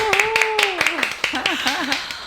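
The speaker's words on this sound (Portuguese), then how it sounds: "uma salva de palmas" A few people clap sharply to welcome a guest onto a podcast, scattered individual claps spread across a couple of seconds while a voice keeps talking over them.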